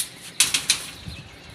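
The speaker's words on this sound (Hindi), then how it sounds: "ये हमारा बहादुर कबूतर" A pigeon beats its wings in a short burst of three quick, sharp flaps, close and fairly loud, then settles into quiet.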